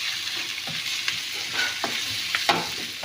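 Pork sizzles and fries in a hot pan for Chinese-style pork adobo, with sharp stirring scrapes and clatters breaking through the steady sizzle, close and alone.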